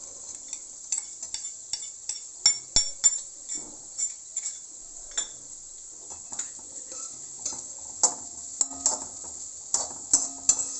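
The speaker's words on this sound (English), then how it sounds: "So I'm adding the onions." Onions go into a pan and are stirred while frying for pulao, giving a faint background sizzle under a series of sharp spoon taps and scrapes against the pan at irregular intervals.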